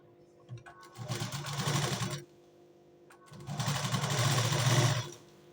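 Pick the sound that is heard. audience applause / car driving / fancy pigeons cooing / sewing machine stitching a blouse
sewing machine stitching a blouse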